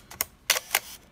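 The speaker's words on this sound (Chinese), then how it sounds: "大家可以听到这快门声哈" Shutter of a 1965 Canon Pellix QL mechanical film camera fires in three short, crisp clicks spaced roughly a quarter second apart, close up and alone with no talking.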